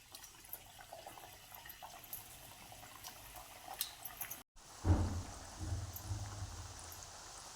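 A soft, steady bubbling hiss of bajra flour and jaggery dough pieces frying in oil, then a brief cut and a louder burst of sizzling as more pieces drop into the oil.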